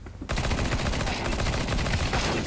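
Sustained automatic gunfire from Counter-Strike 2, a loud rapid burst that kicks in after a brief quiet moment and keeps hammering steadily to the end, with no voices over it.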